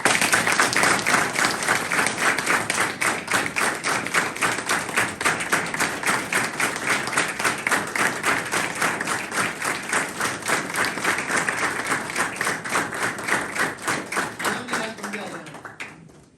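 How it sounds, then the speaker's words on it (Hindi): A group claps together for a recovery birthday at a rehab centre in Dehradun, sustained loud, fast, even applause that fades out near the end. "इसके लिए पहले तो जोड़ा ताली"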